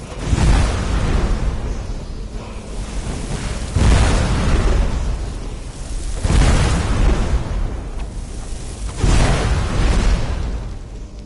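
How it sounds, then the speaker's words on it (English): Fire and explosion spell blasts in Skyrim, a video game, land as four loud, heavy booming bursts at roughly even intervals, each followed by a rumbling tail. "Let's try blasting him with fire and explosion"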